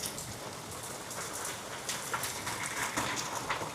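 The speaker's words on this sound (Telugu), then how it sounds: "మనమే లైట్గా జల్లు పడుతుంది" Light drizzle falls by a roadside near an IT tower, a steady soft hiss of raindrops on surfaces, continuous and even, with no one speaking.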